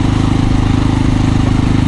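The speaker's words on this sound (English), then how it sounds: "me riding an SWM whilst horribly lost" An SWM RS650R motorcycle engine drones steadily while the bike is ridden, a loud, close, even low throb with a fast regular pulse.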